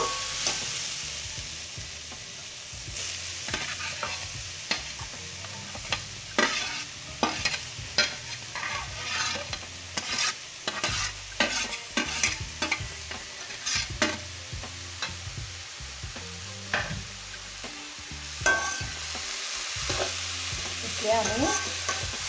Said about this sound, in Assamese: নাৰিকলৰ গুড়াখিনি হাত এৰিব নালাগে, ঘনাই লৰাই থাকিব লাগিব।